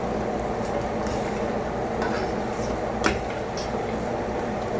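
Mac and cheese is stirred in a pot on a stove turned up high, giving a steady low scraping and bubbling with a few light clinks from the spoon. Nobody speaks.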